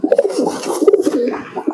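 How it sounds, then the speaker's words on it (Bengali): A female pigeon coos in a run of soft, throaty murmurs close by, with short pauses between the bursts and no talk over it. "মাদিন কবুতর"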